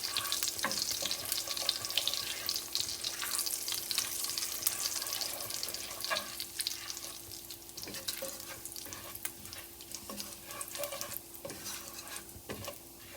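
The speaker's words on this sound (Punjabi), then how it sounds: "ਤੜਕੇ ਦੇ ਵਿੱਚ ਜੀਰੇ ਨੂੰ ਆਪਾਂ ਚੰਗੀ ਤਰ੍ਹਾਂ ਭੁੰਨ ਲੈਣਾ ਹੈਗਾ ਆ" Cumin seeds roasting in hot oil with a pinch of asafoetida for a langar-style dal tempering, a steady close sizzle with scattered crackles and stirring scrapes throughout.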